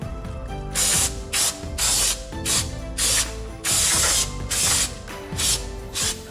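Brake cleaner sprayed onto a car's brake area on a Dodge Charger or Challenger during a brake install, heard as repeated loud, close hissing bursts of spray separated by brief gaps.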